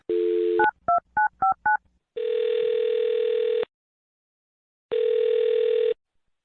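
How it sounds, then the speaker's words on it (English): A telephone number is keyed in as a quick series of short touch-tone beeps, followed by two long ringback tones separated by silence, clear and close. "I'm going to dial his phone right now."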